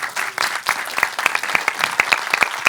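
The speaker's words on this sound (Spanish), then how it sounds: "Un fuerte aplauso de nuevo." Audience applause at a World Animation Day event, a lively burst of many hands with sharp individual claps standing out, close and continuous for a few seconds.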